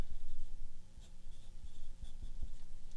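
Marker writing a name on a sheet of paper, a few short scratchy strokes and taps close by, quiet and intermittent with soft squeaks between them.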